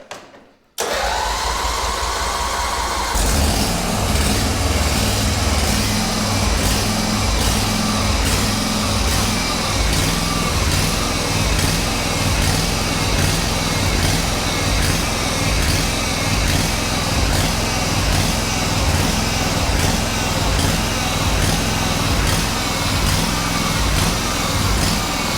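A big garden tractor with a newly installed engine cranks briefly, then fires and settles into a steady, loud, rhythmic running note that holds close and constant for over twenty seconds, with no talking.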